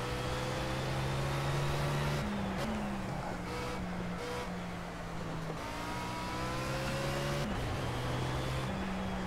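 A steady droning race-car engine in the racing video game Project Cars holds a high whine, shifting pitch with gear changes, continuous and even without any voices.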